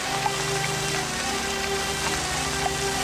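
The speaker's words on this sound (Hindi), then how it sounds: "देखो इतनी बारिश हो रही है, भीग रही हो तुम।" Heavy rain falls steadily on a deserted road at night, a dense continuous hiss of drops with no speech, fairly loud and even throughout.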